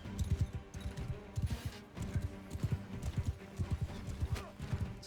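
Horse hooves gallop in Mount and Blade II Bannerlord: a steady, rhythmic clip-clop of repeated hoofbeat clusters, fairly close and moderately loud, continuing evenly throughout under faint background game sounds.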